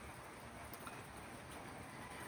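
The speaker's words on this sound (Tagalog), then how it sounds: "Actually, umuulan na. Mahina nga lang, pero enough para mabasa." Light drizzle falling outdoors during seedling-tray sowing, a soft, steady hiss of fine rain at low level with no distinct drops or voices.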